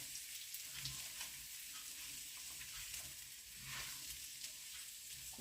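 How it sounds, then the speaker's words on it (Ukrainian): Rice sizzles in hot fat in a pan, a quiet, steady crackle of fine hissing pops with faint scraping as it is stirred, no voices over it. "І нам потрібно, щоб кожна рисиночка така була покупана в цьому жирку, щоб вона трішки ніби обсмажилась."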